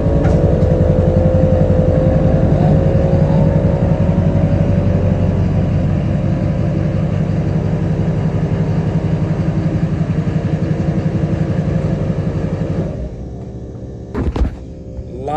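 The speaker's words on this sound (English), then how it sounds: "The compressor's loud as hell." An air compressor fills its tank with a loud, steady motor drone and hum that runs without a break, then cuts off near the end, followed by a couple of brief clunks.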